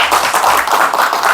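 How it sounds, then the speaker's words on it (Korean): A room audience claps to welcome a company chairman onto the stage at a lecture event, a steady dense wash of applause filling the whole moment without speech. "회장님을 박수로 맞이하겠습니다."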